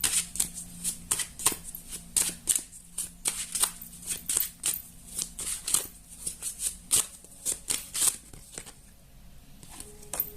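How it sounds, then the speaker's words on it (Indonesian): Tarot cards are shuffled by hand in quick, repeated crisp riffles and slaps, close and fairly loud, in a busy irregular rhythm. "Aku tarik lagi 3 kartu lagi lovelies."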